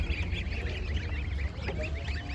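Geese at a poultry market honking repeatedly in a busy chorus of overlapping calls, close and fairly loud over a low background rumble.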